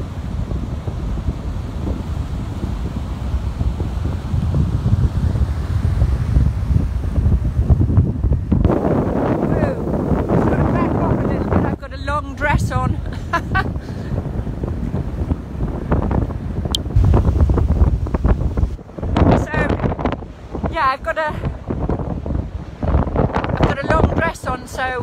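Waves wash in at Woolacombe Bay, Devon, as someone in wellington boots wades into the sea; constant wind roar buffets the microphone over loud, continuous surf and splashing.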